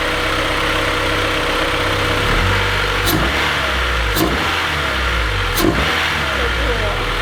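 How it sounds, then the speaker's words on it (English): A Honda car engine fitted with a new AEM intake runs loudly and steadily, with a few sharp revs rising and falling as someone talks. "let's get it started up to see if we can hear that intake sound"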